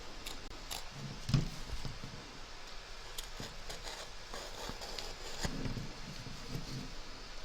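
Scissors trimming fabric around an embroidery stitch line on the back of a hoop for reindeer slippers, faint close snips and crisp cuts scattered irregularly over a quiet background.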